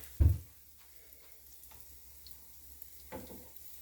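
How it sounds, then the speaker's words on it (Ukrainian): A faint, soft sizzle of kefir pancakes frying in a little oil over low heat, with a dull knock near the start and another light clatter later. "Вогонь невеликий, ой, відразу обсмажується."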